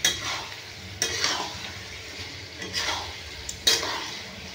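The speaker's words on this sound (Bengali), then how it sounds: "এরপর আমি আলু, ফুলকপি ভাজাটা আমি দিয়ে দেবো, দিয়ে আমি একটু সামান্য কষিয়ে নেব।" Fried potato and cauliflower are sautéed in spice paste for a rural-style cauliflower egg omelette curry. A spatula scrapes the pan in regular strokes over a soft, continuous sizzle.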